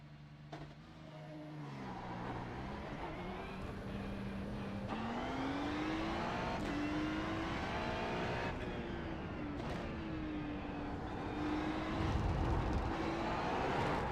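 A Ferrari GT3 race car's engine drones steadily and shifts pitch as it accelerates and eases off through the corners at Okayama in a racing sim, heard from the cockpit with no talking.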